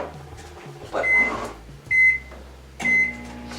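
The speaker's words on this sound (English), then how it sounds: "he's seriously not using the microwave to melt the butter, is he?" A microwave oven runs while melting butter, giving a low steady hum broken by a few sharp electronic beeps and clicks from the door and keypad, close and fairly loud.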